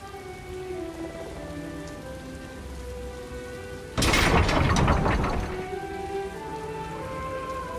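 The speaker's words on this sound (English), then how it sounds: "How often are we going to see a tempest like this in one lifetime?" Steady rain pattering on surfaces during a storm in The Elder Scrolls Online, with a sudden loud crash of thunder rolling for about two seconds midway before the rain continues alone, with background music underneath.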